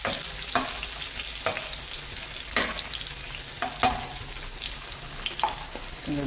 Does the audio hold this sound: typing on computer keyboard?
no